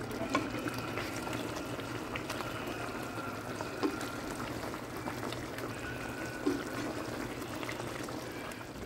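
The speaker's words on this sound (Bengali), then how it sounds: "এখন এটাকে ফুটতে দেব আমরা প্রায় 7 থেকে 8 মিনিট হাই ফ্লেমে" Soybean curry boiling on a high flame in a vegetarian dish, giving a steady low bubbling and simmering texture with a few soft pops, close and continuous with no talk.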